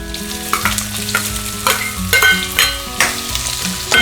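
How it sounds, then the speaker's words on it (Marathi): Onions fry in hot oil with cumin seeds and curry leaves in a pan, making a loud, continuous sizzle with repeated stirring clatters at an irregular rhythm and no voices. "कांदा आपल्याला व्यवस्थित लालसर भाजून घ्यायचा आहे।"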